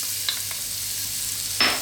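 Garlic sizzles in sunflower oil in a wok, a steady close frying hiss with two small crackles early on and a louder spatter burst near the end.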